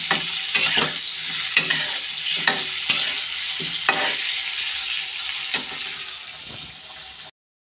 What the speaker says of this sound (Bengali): এখন দিয়ে দেবো পেঁয়াজটা, পেঁপের সাথে পেঁয়াজটা ভালো হয়ে যাবে একসাথে